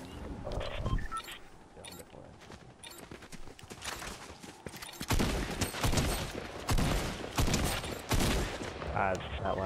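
Gunshots in a video game crack out in a sharp, irregular series, several loud close bursts spaced apart with a dense flurry in the second half, amid game noise.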